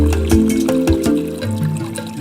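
Water is pumped into a drinking trough for farm animals, splashing and gurgling loudly in uneven bursts with a steady low hum from the pumping beneath.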